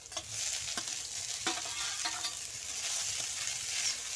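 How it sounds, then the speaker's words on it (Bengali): Boiled drumstick leaves being stirred into frying onions and green chillies in a pan give a steady, close sizzle with scraping stirs throughout, and no talking. "আর সেদ্ধ করে রাখা শাকগুলো ওর মধ্যে দিয়ে দেব।"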